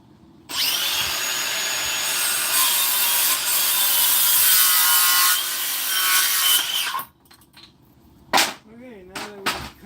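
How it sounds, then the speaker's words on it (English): Wood blocks are sawn with a loud, continuous rasping cut lasting about six seconds, followed by scattered knocks and clatter of handling the pieces, with a brief voice near the end. "now that we've cut all those blocks"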